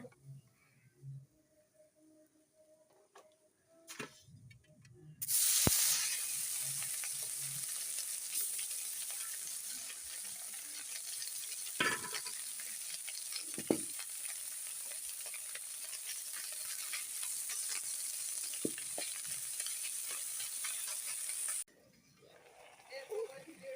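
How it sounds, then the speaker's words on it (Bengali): Small fish, including chanda, frying in a pan for a home lunch: a steady sizzling hiss that starts abruptly after a few seconds, with scattered stirring clinks, then cuts off near the end; faint talk is heard before the frying. "আজকে দুপুরে ছোট মাছ ভাজি করছি"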